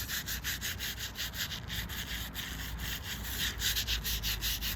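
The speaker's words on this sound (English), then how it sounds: "that's why I use all the different types of brushes" Brushes scrubbing the etched letter and number grooves of a headstone in a Florida cemetery, a steady rhythmic back-and-forth rubbing, close and continuous with no talk.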